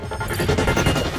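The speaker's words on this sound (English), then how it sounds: "Whoa. Logic bomb." A logic bomb detonating in the video game Remember Me, a dense burst of crackling, rapid impacts over about a second, loud and close with no talk.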